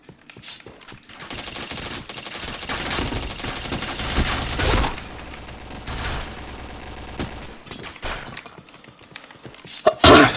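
Gunfire in the online shooter PointBlank, rapid automatic bursts and single shots crowding together loud and close, dropping to brief pauses before a final sharp burst.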